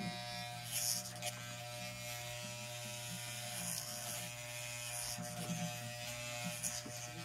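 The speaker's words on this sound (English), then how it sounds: "now I'm going to take my clippers and they're really old" Old electric hair clippers buzz continuously while shaving a head, a steady mechanical drone with faint rattling and small shifts as they move, close and without talk.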